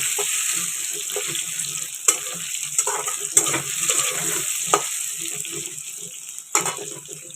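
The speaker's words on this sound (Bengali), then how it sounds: "আর এখানে বসিয়ে দিলাম আলু, সাথে একটু ফোড়নে কালো জিরে ফোড়ন দিলাম।" Potatoes frying in oil with black cumin seeds tempered in, a steady close sizzle with occasional sharp spatula scrapes and stirs, no voices.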